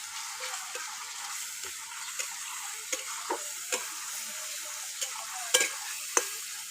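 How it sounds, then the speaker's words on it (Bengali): A spice masala with chili powder is stir-fried for chicken kosha in a pan over a wood fire, a soft steady sizzle broken by irregular scraping and tapping strokes of the spoon. "এবার ভালো করে মশলাটাকে আমি কষিয়ে নেব।"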